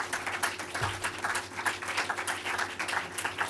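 A lecture audience keeps clapping after a talk on Pier Paolo Pasolini, fairly soft and steady, with many hands blending into a continuous patter.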